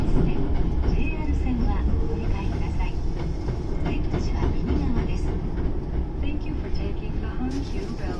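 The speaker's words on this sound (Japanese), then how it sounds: "見えた通り9号線に入線するという感じですね" A Hankyu train pulls into a platform at the large Osaka-Umeda terminal, its steady wheel rumble and clatter filling the station while someone talks over it.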